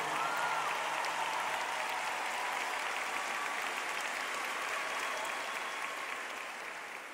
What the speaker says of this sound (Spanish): denle un aplauso a la persona más especial, nuestro Señor Jesús